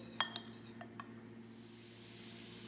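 Spoon stirring black bean sauce in a bowl, a few sharp metallic clinks against the bowl early on, then softer scraping that fades into quiet room hum.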